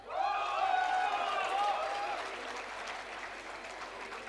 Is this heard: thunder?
no